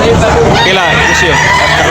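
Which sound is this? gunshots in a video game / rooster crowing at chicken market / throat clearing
rooster crowing at chicken market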